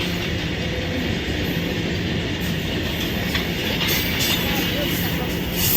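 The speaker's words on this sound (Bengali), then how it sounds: "আস্তে আস্তে ট্রেনটা পার হোক।" A train passes near a bridge, its continuous loud rumble and rattling wheels rolling steadily with faint squeals, while voices talk faintly underneath.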